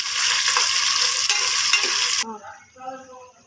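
Loud, dense sizzle as fish curry liquid hits a pan of frying tomatoes, then cutting off abruptly into a quieter bubbling simmer.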